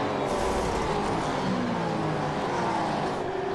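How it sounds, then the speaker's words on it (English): Race cars roar steadily in a V8 championship race at Adelaide in the iRacing sim, with engine noise of several cars droning and shifting pitch, loud and continuous, and an engine blowing up somewhere in the background. "it sounds like someone might have just blown an engine in the background there as well"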